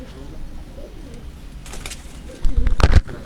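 Pigeons coo softly on a rooftop in Karachi, a few low murmuring calls and a louder burst of fluttering or cooing near the end.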